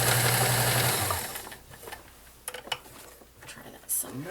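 A vintage 1970s Kenmore model 1914 convertible sewing machine stitching at steady speed with a fast mechanical whir for about a second, then stopping, followed by scattered clicks and handling noises.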